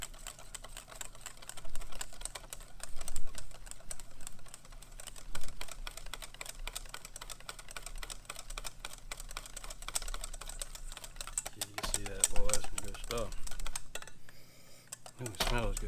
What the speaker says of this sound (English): And we're going to whisk this up.